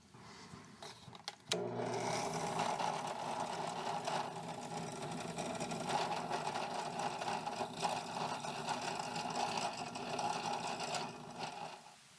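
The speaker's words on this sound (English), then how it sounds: "what I was doing was counterboring scales after I drilled them" A drill counterbores mammoth ivory knife handle scales, giving a steady mechanical whirring drone with gritty cutting noise that starts abruptly after a quiet moment and runs near and loud until it stops at the end.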